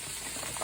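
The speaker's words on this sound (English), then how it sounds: "First I'm going to fry this gobi or cauliflower" Cauliflower (gobi) florets frying in hot oil, a steady close-up sizzle with soft crackling and no voices.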